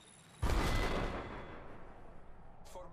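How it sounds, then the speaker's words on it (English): A grenade goes off in Apex Legends, one loud sudden blast that rolls into a long decaying rumble and then fades, with no talk over it. "Grenade incoming."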